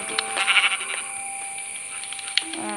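A goat bleats in the Minecraft video game, a short wavering call over a steady high game tone and light clicks.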